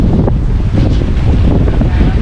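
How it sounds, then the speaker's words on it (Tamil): A speedboat runs at sea under strong wind, with constant roaring buffeting on the microphone and the low rush of the hull over water, loud and unbroken throughout. "நம்ம இந்தமாரி ஸ்பீட் போட்டில் ட்ராவல் பண்ணதே கிடையாது."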